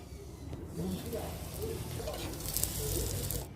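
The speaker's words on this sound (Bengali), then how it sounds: "এবার ভেজে নেব।" Dough filled with meat frying in hot oil, giving a steady, soft sizzle and crackle that carries on throughout at moderate volume.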